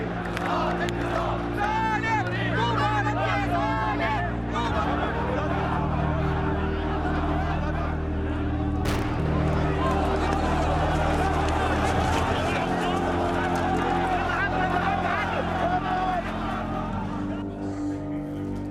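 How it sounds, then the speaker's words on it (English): A crowd gathers in a Cairo square during the revolution, a dense murmur of many voices with scattered shouts and laughter, while a narrator speaks over it throughout. "In the square, the crowds are growing and the tension is mounting."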